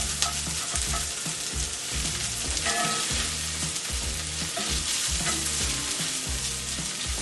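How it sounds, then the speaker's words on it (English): Salmon reheating in a frying pan gives a loud, steady sizzle throughout, with a faintly rhythmic stir-like pulse underneath and no talking. "So now I'm adding my salmon back, in the pan."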